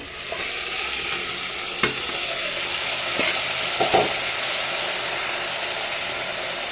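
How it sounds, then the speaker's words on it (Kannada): Washed rice fries in ghee for ghee rice, a steady hissing sizzle broken by occasional spoon clicks and scraping as it is stirred, close by and with no voices. "ಅದನ್ನು ಕೂಡ ಚೆನ್ನಾಗಿ ಫ್ರೈ ಮಾಡ್ಕೊಳ್ಳೋಣ ನೋಡಿ ಚೆನ್ನಾಗಿ ಫ್ರೈ ಆಗ್ತಾಯಿದೆ"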